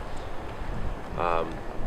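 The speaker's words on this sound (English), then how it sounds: "It's really windy today. I'm sure you can hear that." Strong wind roars and buffets the microphone in a constant low rush, with a brief voice-like tone rising midway, out on the ice while ice fishing in an urban setting.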